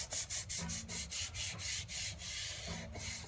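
Brown thickening tape wound around a golf iron shaft: a steady series of soft rhythmic rubbing strokes, close and quiet, about a dozen even passes.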